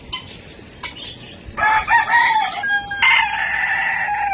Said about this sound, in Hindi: बड़ी मुर्गियों को भी पानी डालते हैं।